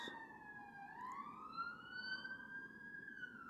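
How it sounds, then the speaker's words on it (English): A wailing siren rising and falling in pitch, heard from a distance and fairly faint, with no voices. "Sirens."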